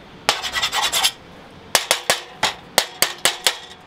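Scratching and striking on a cheap metal welding table while testing electrodes, heard as a quick cluster of sharp scraping strikes followed by a steady series of separate, crisp metallic scratches.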